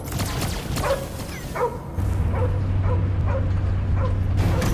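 Cosmo, the space dog in the PS5 game Guardians of the Galaxy, gives a string of repeated barks and yips over a steady low game rumble, loud and close throughout.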